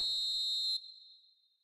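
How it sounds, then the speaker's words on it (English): Referee whistle blown for offside in the football video game eFootball 2025, a single loud shrill blast that cuts off and rings out briefly. "And the whistle's gone, presumably for offside."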